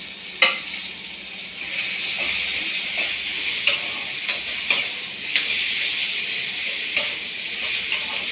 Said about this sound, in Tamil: நல்லா வதக்கிக்கலாம். தக்காளியும் சேர்த்து கொஞ்சம் உப்பு சேர்த்து உப்பு கொஞ்சம் சேர்த்துக்கலாம்.